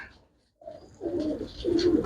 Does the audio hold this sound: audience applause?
no